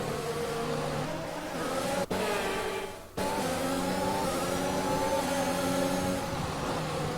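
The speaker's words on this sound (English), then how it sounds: "The revs are going through the roof every time." A race car engine in the F1 2021 video game revs high and steady with a whining tone, broken by two brief gear-change dips.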